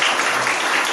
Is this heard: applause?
yes